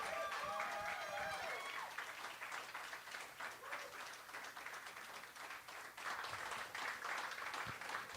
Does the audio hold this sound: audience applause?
yes